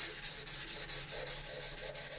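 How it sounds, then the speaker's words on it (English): Sandpaper rubs back and forth in quick, even strokes over a plastic 1983 AMT U.S.S. Enterprise model kit during wet sanding, a close, soft, steady scraping rhythm. "That's the whole reason why they do the wet sanding technique, is to keep your sandpaper fresh"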